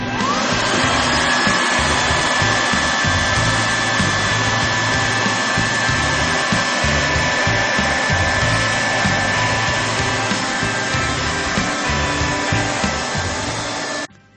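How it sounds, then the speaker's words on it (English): A hot air plastic extrusion welder, set to 240 degrees, runs with its fan switched on, giving a loud, steady blowing whir with a faint tonal hum that continues unbroken until it cuts off at the end. "Set the hot air and switch on the fan."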